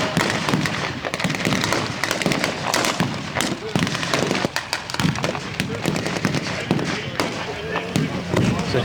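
Simulated battlefield explosions and blank gunfire at a Tankfest battle scenario, with a BAR among the weapons firing blanks: a dense, continuous stream of sharp cracks and thumps, fairly close and loud, with crowd voices mixed in.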